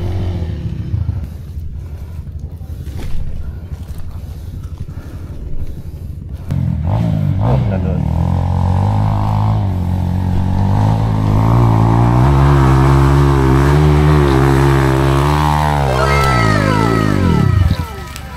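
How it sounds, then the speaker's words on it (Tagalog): A motorcycle engine revs hard and climbs in pitch on a steep, slippery uphill climb in Palayan City, loud and close, with scraping and clattering, then cuts off near the end; voices are heard early on. "Lakas ng motor niya."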